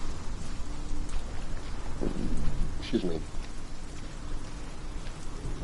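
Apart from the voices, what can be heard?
rain falling in the video game Hellblade: Senua's Sacrifice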